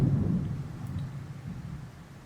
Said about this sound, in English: Did y'all hear that? That was thunder.